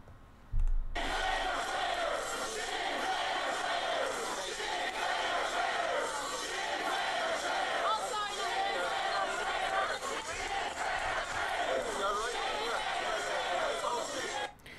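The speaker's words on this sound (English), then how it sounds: "Crowd is chanting Sinn Féin are traitors." Protest crowd in Dublin chanting against Sinn Féin: a loud, raucous mass of voices shouting in unison, sustained and dense, with crowd noise and scattered clicks underneath.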